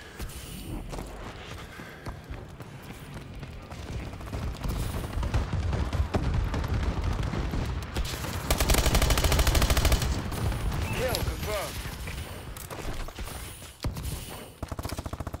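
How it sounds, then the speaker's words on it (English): A friendly bombing run in an online shooter game pounds the area with a dense, loud barrage of blasts and rapid gunfire-like bursts that build and rumble continuously for several seconds without speech. "Friendly bombing run incoming."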